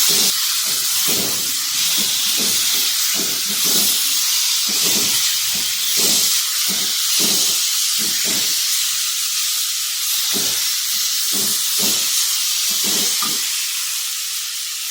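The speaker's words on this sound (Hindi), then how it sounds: "ये केरी डाल देनी है और हमने इसे थोड़ी देर के लिए फ्राई कर लेना है।" Raw mango pieces fry in a pan, with a loud, steady hiss and sizzle throughout, broken by a rhythmic series of stirring strokes close by.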